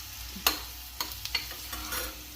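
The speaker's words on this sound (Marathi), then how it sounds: "आता यामध्ये आपण ठेचलेला लसूण टाकूया, जिरे टाकू आणि व्यवस्थितपणे हलवूया।" Crushed garlic and cumin are stirred into sautéed onions in a hot pan, with a soft steady sizzle and several sharp spatula scrapes and taps against the pan.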